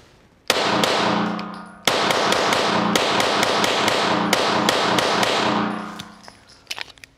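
Springfield XD service-model pistol firing 150-grain rounds in a rapid magazine dump, loud sharp reports in a quick irregular string over several seconds, each shot ringing into the next before trailing off.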